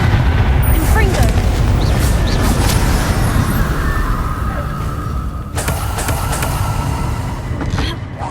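Confringo blasting spells go off during a fight in the Hogwarts Legacy video game, loud rumbling booms and crackling bursts stacked densely over heavy low-end noise, with voices calling out amid the chaos.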